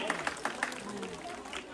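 Applause from an audience at a cultural gathering, the Uttarayani Kautik at Punjab Bhawan, a few sharp claps ringing out close by at the start, then settling into a lighter patter under an announcer's voice.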